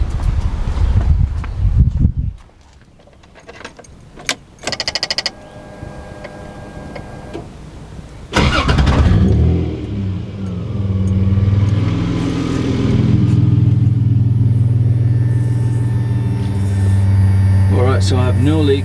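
A 1975 Toyota Crown MS85 with a swapped-in 2JZ engine and an upgraded fuel pump. After a voice and some clicks and handling noises, the engine cranks and catches, then settles into a steady, fairly loud idle.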